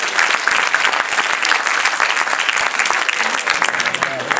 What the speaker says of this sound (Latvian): Aplausīt!